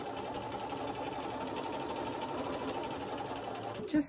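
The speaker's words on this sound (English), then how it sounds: "I backstitch at the beginning and end of each seam" A domestic sewing machine stitches a seam through quilting fabric at a 2.0 stitch length, with a steady, fast, close mechanical whirr that runs continuously and then stops with a brief clunk at the end.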